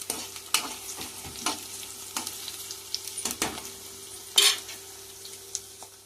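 Curry leaves and plantain pieces frying in hot oil, a steady sizzle broken by repeated scraping stirs and clinks of a metal spoon against the pan, one louder scrape near the end.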